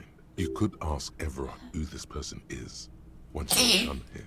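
A single sharp sneeze bursts out near the end, following a stretch of steady talk over a Disco Elysium game session.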